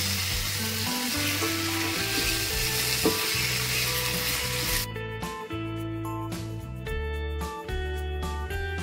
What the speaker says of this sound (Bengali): এবার আমি এর মধ্যে দিয়ে দিচ্ছি ভেজে রাখা আলু টুকরো, দিয়ে আমি ভালো করে আরো একবার কষিয়ে নেব।